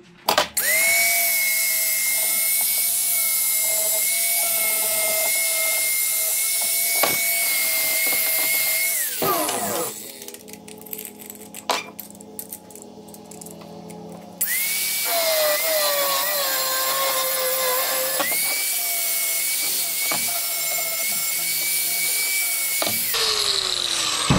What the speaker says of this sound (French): je vais le couper, je vais meuler